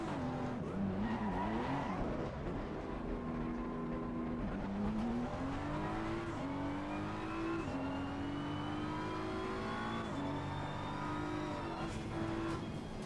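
A BMW race car in a racing video game holds a steady, loud engine drone that climbs and drops with gear shifts and throttle changes, with some tire squeal and no talk.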